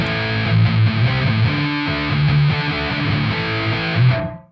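A heavily distorted electric guitar played through a NUX amp's metal setting chugs out thick, saturated metal chords, loud and dense, ringing out briefly before cutting to silence.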